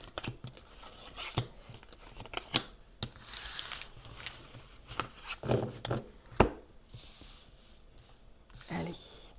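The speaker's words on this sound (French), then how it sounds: "Allez, on va prendre 9 cartes." Playing cards are drawn from a deck and laid out one by one for a card reading, giving close, irregular snaps, taps and papery rustles.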